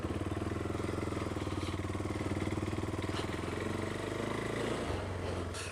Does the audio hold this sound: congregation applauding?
no